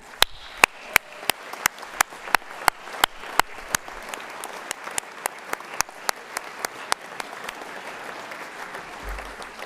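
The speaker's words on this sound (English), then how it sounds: "offer yourself a huge round of applause" Audience at a Scottish brass band contest claps, a steady round of applause with sharp individual claps standing out near the front over a dense wash of hand claps, continuing evenly throughout.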